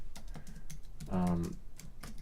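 Typing on a computer keyboard during a live support chat about a faulty DJI camera battery, with quick irregular clicks close by and a brief burst of other sound midway.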